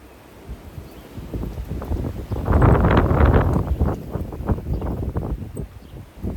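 Wind gusts over an outdoor garden bed into the microphone as a low, rough rumble that swells to a loud peak midway, then eases into lighter buffeting.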